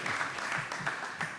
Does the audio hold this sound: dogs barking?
no